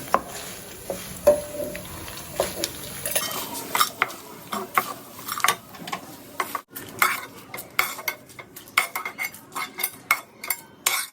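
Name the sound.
frying ingredients in hot oil for gongura pickle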